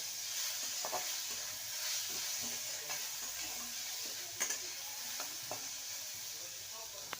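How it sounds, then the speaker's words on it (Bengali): Chopped onion fries in a pan, a continuous soft sizzle broken by scattered scrapes and light taps as it is stirred. "এবারে দিয়ে দেবো পেঁয়াজ কুচি ভালো করে নেড়ে নেব পেঁয়াজটাকে হালকা ভেজে নেব"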